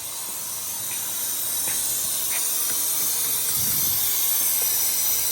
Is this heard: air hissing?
yes